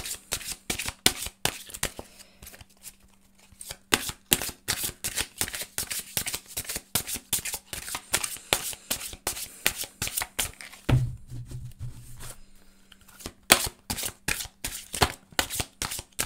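Tarot cards being shuffled by hand, a steady run of crisp flicking and riffling slaps repeating rhythmically close to the ear, soft and quiet with no talk over them.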